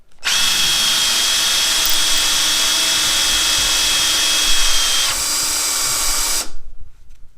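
A Ryobi 18V brushless or Hercules 20V cordless drill driver runs continuously at high speed, a loud, steady whine that holds for about six seconds, then cuts off abruptly.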